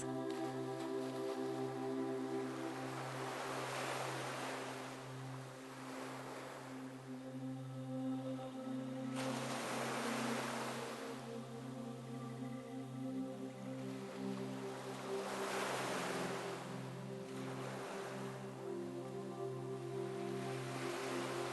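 Ocean waves wash over sand and rocks on a shore, rising and falling in slow surges every few seconds beneath a steady, sustained tonal drone.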